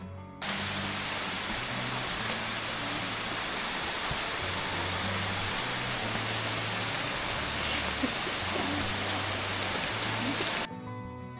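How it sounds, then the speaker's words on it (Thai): Heavy rain pours down steadily, a dense and constant hiss that stays loud throughout over a faint low hum. "ฝนก็ตกลงมาจริงๆครับ"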